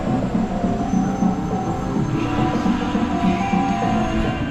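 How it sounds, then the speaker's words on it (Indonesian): Train departing Pekalongan station bound for Semarang: a continuous heavy rumble and rolling clatter of rail cars, steady and fairly close, with faint metallic wheel squeal and no voices. "Tuh, kereta ke Semarang deh."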